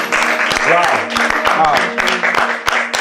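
An audience claps loudly and steadily for the musicians after a piano-accompanied performance at a church prayer gathering, with a voice exclaiming over the applause.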